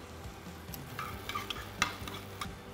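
Carrots and bell pepper frying in a pan while being stirred, with a low steady sizzle broken by scraping stir strokes and a few sharp clinks near and moderately loud, no voices.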